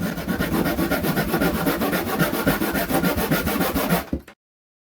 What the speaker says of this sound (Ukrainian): Звісно, що я такою пилочкою відпиляю це дуже-дуже просто